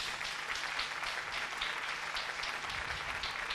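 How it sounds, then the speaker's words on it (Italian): A theater audience at a 2010 Ligurian music show applauds the jury, a dense, steady wash of clapping that holds at an even level throughout, with no voices over it. "un applauso alla nostra giuria"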